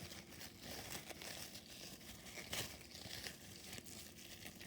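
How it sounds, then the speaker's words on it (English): Plastic packaging peeled off a Trackmaster Revolution Jerome toy train crinkles and crackles close by in soft, irregular bursts, with one sharper tear midway. "Let's take this plastic off."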